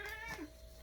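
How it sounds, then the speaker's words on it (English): An angry 18-year-old cat gives a short, strained meow that bends upward and then drops off, faint and close, with no talk over it. "I wanted to introduce y'all to a very angry cat."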